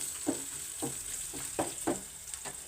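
Crushed ginger and garlic with bay leaves fry in a pan, a soft steady sizzle broken by about six evenly spaced scrapes of a spatula, quiet and close, with no voices.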